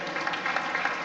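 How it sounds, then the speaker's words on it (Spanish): Dense, steady applause from a crowd at a town winter concert, clapping for the band in a continuous loud wash over a brief moment. "le vamos a dar un aplauso ya, ¿eh? A toda la banda."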